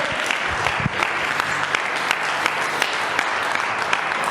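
A church congregation claps in sustained, even applause, many hands together in a dense patter that holds steady from start to finish without speech.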